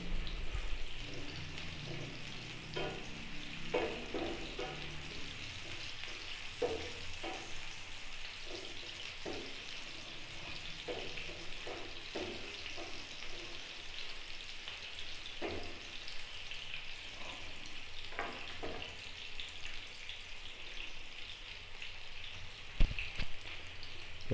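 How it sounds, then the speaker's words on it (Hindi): Chopped onions fry and brown in a pan for Khaleeji qeema, a steady soft sizzle with faint crackles and pops running continuously at low volume, no voices over it. "प्याज हमारा थोड़ा थोड़ा ब्राउन होना शुरू हो गया है।"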